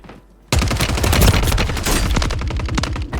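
Rapid, loud gunfire bursts in Call of Duty Warzone, a dense volley of close shots rattling continuously for about three seconds after a brief quiet start.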